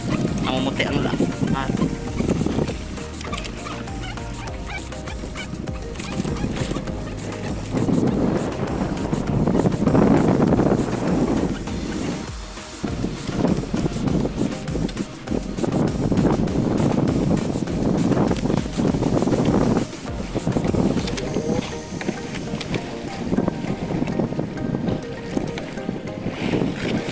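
Big sea waves and strong wind buffet a small fishing boat out after skipjack tuna, with loud, continuous roaring rush and sloshing surges that swell and ebb, while buffeting noise fills the whole stretch.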